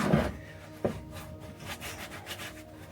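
A rag rubs along a greasy metal NATO hitch, making a few soft scrubbing swipes and a brief knock near the start. The sound is close and quiet, with no talking.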